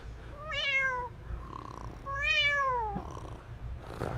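A cat meows twice, long drawn-out cries with a pause between, close and fairly clear over a quiet background.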